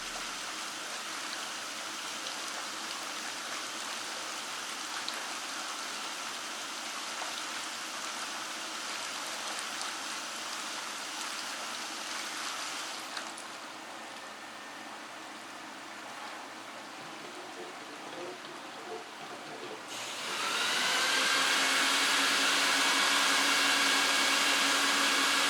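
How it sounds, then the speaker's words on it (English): Oriental rug cleaning machine running its vacuum alongside low-pressure clear water: a steady hissing, rushing wash that dips briefly midway, then swells louder and brighter with a whining tone, no voices. "Let's listen to the vacuum and the sound of the clear, low pressure water."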